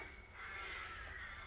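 Crows cawing around an old Norman church in England, a few harsh calls heard faintly at a distance over low outdoor ambience.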